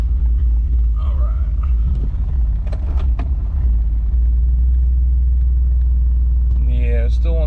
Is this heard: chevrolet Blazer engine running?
yes